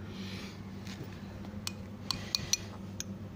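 A teaspoon clinks a few times against small glasses while axolotls are being fed, giving light, sparse metallic chinks over quiet room tone.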